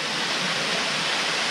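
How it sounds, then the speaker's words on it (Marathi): A temple waterfall pours water nonstop onto a Shiva linga, a loud, dense, steady rush with no break and no talk. "तिकडे वॉटरफॉलच्या इकडे बघा शिवलिंग आहे, म्हणजे आपला शंकराला वरून पाणी पडतंय 24 तास"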